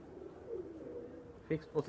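Pakistani Teddy pigeons cooing softly nearby, a faint low warbling coo followed by two louder coos at the end.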